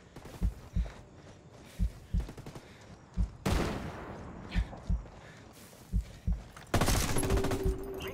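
Gunfire in the video game Glorious Dead: sharp bursts of shots at irregular intervals, with a denser louder stretch of firing midway and a final burst near the end, mostly without talk.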